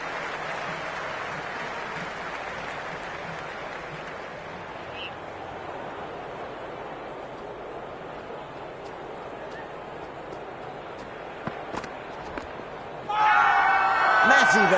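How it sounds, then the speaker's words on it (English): Steady crowd murmur and cheering from the stands in the Cricket26 video game during a T10 match, a broad continuous wash with a few sharp knocks before a commentator starts speaking. "It's the most enthusiastic crowd you could ever see right now. There's a buzz, a real buzz coming from the stands."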